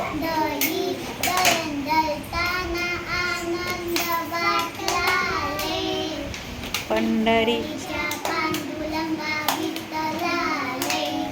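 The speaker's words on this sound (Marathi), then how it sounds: "छान टाळ्या वाजवा रे" Children clap their hands in rhythm during a devotional bhajan to Panduranga, steady sharp claps running under sung and spoken children's voices throughout.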